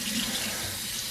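Tap water runs steadily into a sink while a baby monkey is bathed, a close, continuous splashing stream with no talking.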